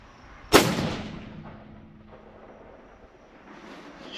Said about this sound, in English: I'm gonna shoot the left target in the middle